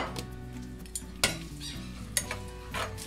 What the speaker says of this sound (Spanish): En una cazuela con un poco de aceite vamos a agregar las salchichas y vamos a dejar que doren un poco